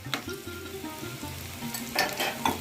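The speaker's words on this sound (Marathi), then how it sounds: "आपण छोटीशी फोडणी घालूया परत एकदा. यामध्ये आहे ना थोडंसं जिरं ऍड करूया." A tempering of cumin and peeled, crushed garlic sizzles and crackles in hot oil. The sound is moderately loud and bursts up more sharply near the end, over a low background hum, and no one is talking.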